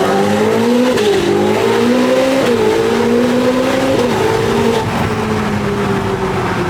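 Ferrari 488 Pista with a Novitec exhaust revving hard on a race track, a loud, sustained engine howl rising and dipping through gear changes, close and alone without voices.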